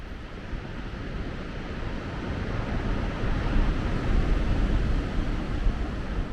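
Ocean surf carries to a campsite in the Pacific Northwest as a steady, broad roar that swells slightly louder midway and keeps going without a break, with no voices present.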